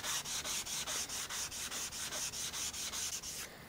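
A chisel is sharpened on the 320 grit side of a ceramic stone, giving steady back-and-forth rasping strokes, about four per second, close and fairly loud with no talking.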